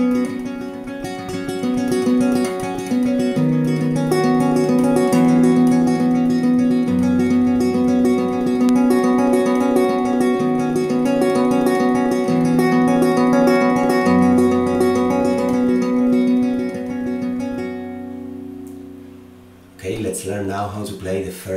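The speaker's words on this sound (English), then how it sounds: "I am playing with my guitar on standard tuning." Fingerstyle acoustic guitar in standard tuning plays the introduction of a song, a flowing picked melody over bass notes, close and sustained, then fades out before a brief end.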